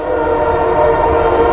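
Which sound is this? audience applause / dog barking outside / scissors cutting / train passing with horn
train passing with horn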